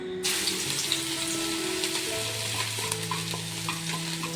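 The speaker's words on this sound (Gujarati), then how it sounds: "તેલ બરાબર ગરમ થઈ ગયું છે સૌથી પહેલાં આપણે કોબી નાખીશું" Shredded cabbage dropped into hot oil bursts into a loud, close sizzle that starts abruptly and keeps hissing steadily, with faint scraping movements underneath and no talking.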